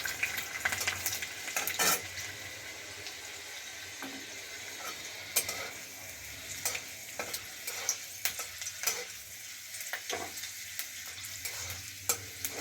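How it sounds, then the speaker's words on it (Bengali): Peeled garlic cloves fry in oil in a pan for a coriander-leaf pickle, a soft steady sizzle broken by sharp scraping and stirring clicks from a utensil, close and fairly quiet, with no talking. "রসুনটা আমি লাল লাল করে ভেজে নিয়েছি"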